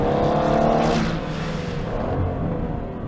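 An Aston Martin Vantage F1 being driven hard around a race track, engine roaring loud and close, the note swelling then easing slightly as the car works through a corner.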